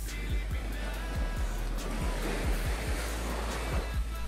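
Ocean waves wash onto the shore of Villamar Beach Resort as a steady, loud surf roar mixed with wind, with repeated low thumps from the breaking water.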